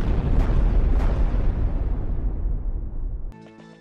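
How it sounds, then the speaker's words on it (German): A tank shell slams into a house in a video game, setting off a long, loud explosion with two sharp bursts early on, then a rumbling roar that fades away before an abrupt cut to quieter game sounds. "wir haben unser Haus aus Versehen mit dem Panzer abgeschossen"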